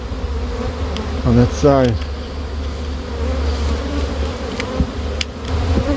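Honey bees buzzing during the removal of a beehive from a drain, a steady swarm drone close by, with brief voices and a sharp squeaky chirp partway through.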